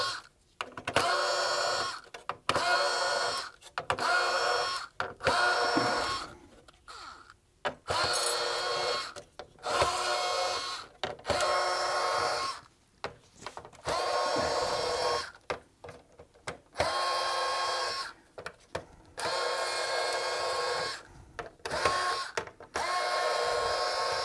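Screws being taken out of a PS5 console frame, heard as repeated bursts of small mechanical whirring and clicking, broken up by short pauses, fairly close and moderately loud, with no voice.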